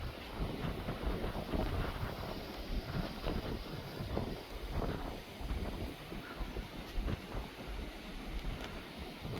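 Strong, gusty wind at an airfield where a Cessna 172 is parked, roaring and buffeting loudly against the microphone in uneven surges throughout, with no voices.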